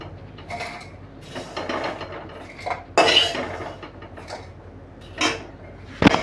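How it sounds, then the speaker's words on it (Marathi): Crispy toasted leftover bread pieces are handled in a dish, giving dry clattering rattles and scraping knocks in irregular bursts, close up with no talking. "तुम्ही आवाज पण ऐकत असतील ना, असा झाला आहे कुरकुरीत."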